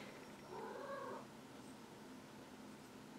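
A cat meows indoors, one drawn-out call lasting under a second, fairly quiet and close, followed by room hush.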